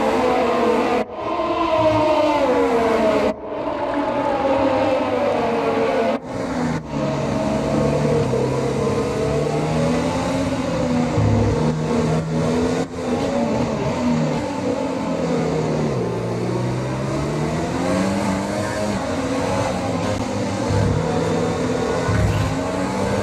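A Formula 1 car engine in F1 2020 at the Vietnam Grand Prix in Hanoi screams continuously and loud, its pitch rising through gears and dipping on downshifts, with a few brief cuts, no talking.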